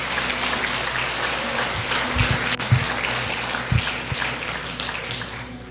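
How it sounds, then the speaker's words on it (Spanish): Congregation in a church service applauding loudly, a steady wash of many hands clapping with a few sharper taps standing out, held at a constant level throughout. "Dale un aplauso fuerte a Él"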